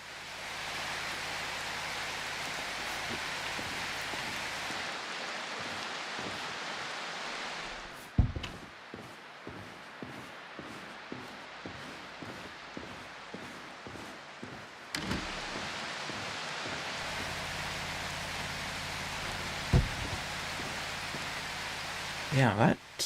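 A rain sound effect in the video game Prologue: Go Wayback! plays as a steady hiss, dropping out midway while rhythmic soft thumps continue, then returning with occasional clicks.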